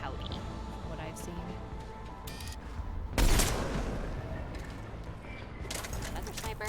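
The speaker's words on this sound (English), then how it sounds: "Thought maybe I heard another sniper." Sniper rifle shot in the Mass Effect Legendary Edition game, a single sharp broadband crack around the middle with a short decaying tail, heard over constant game ambience and talking.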